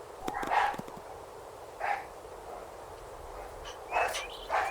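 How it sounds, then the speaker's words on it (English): A dog barks in the background on a golf course, with a few short, distant bursts separated by pauses over faint outdoor ambience. "some dog activity"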